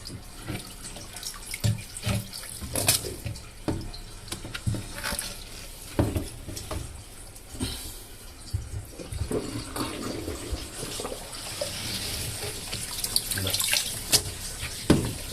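Water drains out of a semi-automatic washing machine with a dryer problem, giving irregular gurgles, sloshes and splashy bursts up close that swell and fade across the stretch.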